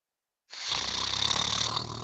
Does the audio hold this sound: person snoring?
yes